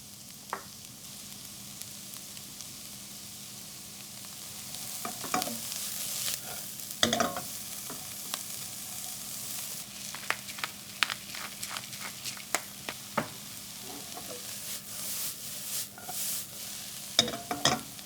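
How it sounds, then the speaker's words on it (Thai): Onion and carrot being stir-fried in a pan, a soft continuous sizzle broken by repeated scraping and tapping strokes of the utensil, growing busier toward the end, with no voices. "ผัดหัวหอมกับแครอทก่อนค่ะ"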